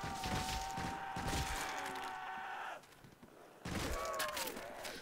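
Gunfire in Call of Duty custom zombies, loud sustained bursts of rapid shots that stop briefly and then resume, up close with game sounds layered underneath.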